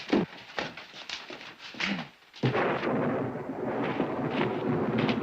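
Deep rumbling thunder from a storm rolls in the distance, a low boom that swells and lingers, with no talk.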